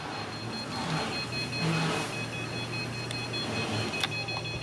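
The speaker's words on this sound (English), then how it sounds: "So if I get nice and close to the wall, it'll start beeping." Parking sensors on a Mercedes-Benz SL350 roadster sound as the car draws close to a wall, a thin, steady high-pitched electronic tone running over a low hum of the idling car.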